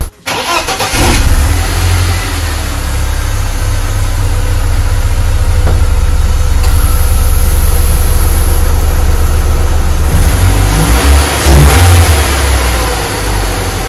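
A BMW E36 sedan engine, running without its air filter, cranks and catches, then revs steadily and loudly for the rest of the clip, with a few sharper throttle blips near the end.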